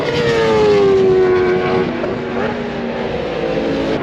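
A loud engine roars close by, its pitch sliding down steadily then holding at a lower drone, a rough mechanical rumble throughout.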